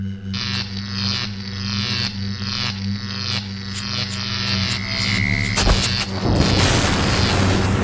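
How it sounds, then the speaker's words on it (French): A big explosion booms out under a low steady hum, with a sharp blast near the end followed by a broad rumbling wash of noise. "Il y a eu une grosse explosion et je suis mort, c'est ça?"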